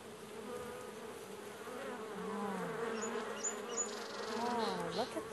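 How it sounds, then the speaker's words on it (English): A steady, droning hum of many honeybees in an open hive close by, swelling slightly louder partway through, with faint higher buzzing flickers layered on top. "Okay, Nathan, let's open up this beehive and see if we can find some honeybees inside"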